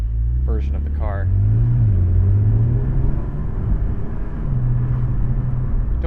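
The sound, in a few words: Porsche 718 Spyder 4-liter naturally aspirated engine driving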